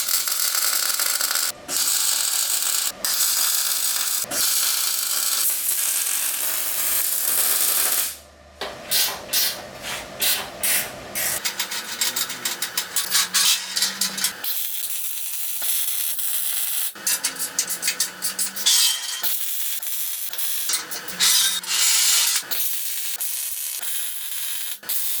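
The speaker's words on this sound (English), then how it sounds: "Let's get to welding." Welding on a shop welding table being built, a loud steady crackling hiss running almost throughout, with brief breaks and bursts of sputtering between passes.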